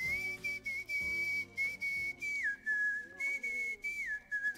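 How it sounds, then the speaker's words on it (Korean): A person whistles a clear, sustained tune with held notes and a few quick slides down in pitch, loud and close, with no talk over it. "휘파람을 잘 분답니다"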